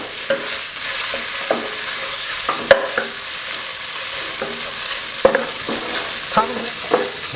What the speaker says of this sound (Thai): เราผัดหมูกับกระเทียม จนหอมสักครู่หนึ่งก่อนนะครับก่อนที่เราจะเติมน้ำนะครับ